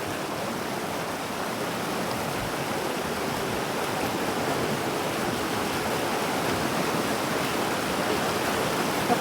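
A river at Palin in Arunachal rushes as a steady, dense broadband roar of flowing water. It is close and continuous throughout, with no voices.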